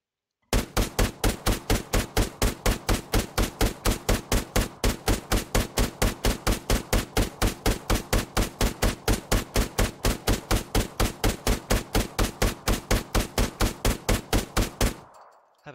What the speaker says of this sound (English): And now we'll go back to shooting.